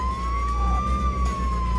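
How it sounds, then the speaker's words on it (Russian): Police car siren in the video game Contraband Police, a steady wailing tone sweeping slowly up and down over a low vehicle rumble, loud and continuous with no talking. "Я сейчас сирену врублю."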